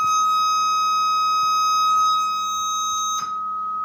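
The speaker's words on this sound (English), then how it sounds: "now we can hear the sine wave" A steady sine wave tone from a signal generator used in measuring amplifier ripple holds unbroken and clear, with a faint low hum underneath and a brief click near the end.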